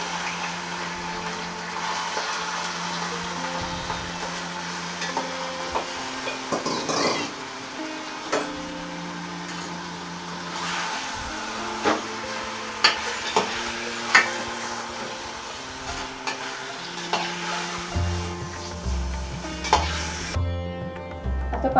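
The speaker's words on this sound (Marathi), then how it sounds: "आता पांढऱ्या रस्स्याचं मटण शिजतंय" Mutton for Kolhapuri white curry sizzling and cooking in a pot, with a steady hiss and occasional stirring clinks, fairly close and moderately quiet, background music playing.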